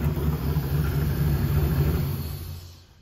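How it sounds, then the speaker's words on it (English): A 1700hp supercharged blower engine revved while cold, a loud, steady low rumble held for nearly three seconds before easing off at the end. "Cold rev, brothers."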